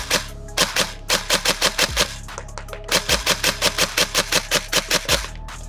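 A G&G Knight's Armament SR25 E2 APC airsoft rifle fires close and loud in quick repeated single shots, each a sharp snappy crack in rapid strings with brief pauses between volleys.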